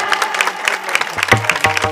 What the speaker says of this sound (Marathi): आता एकदा स्वतः करता सुद्धा टाळी वाजवा